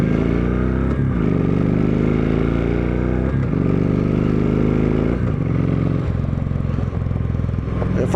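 A Kawasaki Vulcan Vaquero bagger motorcycle rumbles steadily and loudly while riding, its engine note dropping and shifting in pitch at several points as the rider downshifts through the gears.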